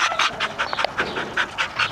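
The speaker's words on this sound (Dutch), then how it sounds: "Twee leuke brakjes hier." Brak hound dogs pant quickly and rhythmically in a kennel box, with close breathy puffs in a steady rapid cadence and a small whine mixed in.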